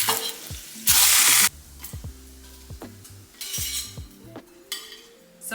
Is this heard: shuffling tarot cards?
no